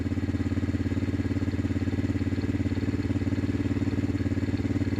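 Chinese 110cc quad engine idling after a tune-up, a close, even rhythmic putter that stays steady throughout.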